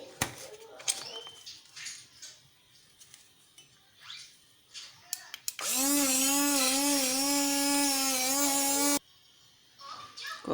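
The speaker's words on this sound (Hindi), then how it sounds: "इसको फिर से हम बीट करेंगे।" Instant coffee, sugar and a little milk are beaten in a cup with an electric beater, giving a loud, steady, close whirring buzz of about three seconds. Quieter clinks and handling noises come before and after it.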